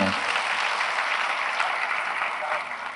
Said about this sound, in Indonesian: Tepuk tangan dong sekali lagi buat beliau ini.